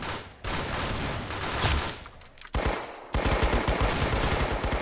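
Loud, sustained automatic gunfire from a mounted gun in the shooter game Arsenal, rapid dense bursts broken by two brief pauses, then heavier fire resuming.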